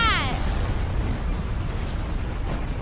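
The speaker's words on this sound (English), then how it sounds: "Why does he have so many explosions?" Explosions in a fan-made skibidi toilet animation, a toilet character firing rockets from many launchers: a dense, rumbling barrage of blasts and booms fills the whole stretch, with a brief descending whistle at the start.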